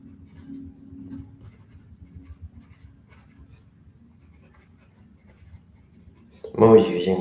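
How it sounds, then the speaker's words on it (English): Soft 2B graphite pencil scratching across paper in quick strokes, mostly faint and close, before a loud burst of speech near the end. "I'm using this 2B and I'm like, holy shit, this is like so soft, it like burns up really quickly"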